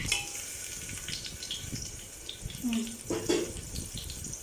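Sliced green chillies fry in a pan of hot oil for a pressure cooker biryani, giving a steady close sizzle with a few light clinks and stirring touches throughout.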